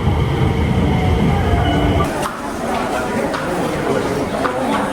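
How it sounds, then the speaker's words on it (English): A train pulls into a station in Japan with a rumbling, rolling rush that fades partway through and gives way to lighter clatter and station noise, while people talk nearby. "There's my train."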